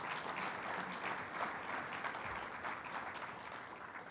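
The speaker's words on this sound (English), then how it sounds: "Let's give all of our elected leaders a round of applause" Sustained applause from a large audience at a chamber of commerce event, dense and even, holding steady for several seconds.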